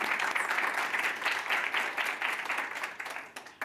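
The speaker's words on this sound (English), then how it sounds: "So if y'all can give us a round of applause for Dr." Audience applause for a speaker at a safe sleep and accidental death prevention event, steady dense clapping from a crowd filling the whole stretch and thinning slightly toward the end.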